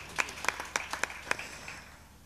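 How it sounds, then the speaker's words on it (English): Sparse, close claps from a concert audience at a live Cuban funk show: about half a dozen separate, fairly faint hand claps, then quiet. "A round of applause for you too,"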